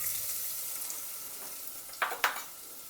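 Small shallots fry in hot oil for a Kerala-style beef curry, giving a soft, steady sizzling hiss. Near the end, a couple of brief utensil scrapes and clinks stand out against the fairly quiet frying.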